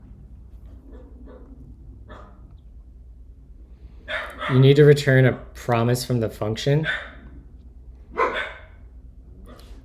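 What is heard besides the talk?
dog barking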